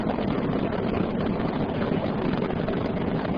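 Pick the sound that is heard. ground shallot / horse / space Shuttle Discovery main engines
space Shuttle Discovery main engines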